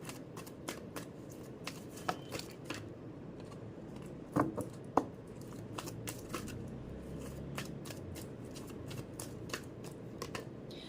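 Tarot cards are shuffled and drawn at close range: quiet, scattered papery flicks and snaps over a soft hiss, with a few sharper slaps in the middle.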